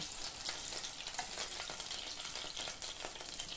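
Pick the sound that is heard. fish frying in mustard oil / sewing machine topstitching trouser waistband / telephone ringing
fish frying in mustard oil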